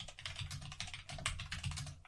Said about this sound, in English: I kind of regret buying such a loud mechanical keyboard now when we're recording.